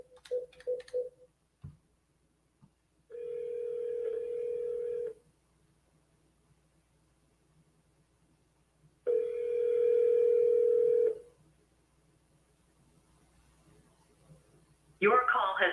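Phone dialing followed by two long steady ringback tones separated by a silent pause, with a brief burst of keypad tones at the start and a voice cutting in at the end.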